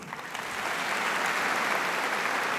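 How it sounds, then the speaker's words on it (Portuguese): Clapping from a church congregation swells from a few hands into full steady applause across the room. "palmas para ele"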